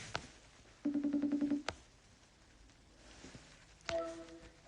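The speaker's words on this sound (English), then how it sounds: "Calling you up, Rob." An outgoing phone call is placed, with a short burst of quick dial tones followed by a faint ringback tone over a quiet room.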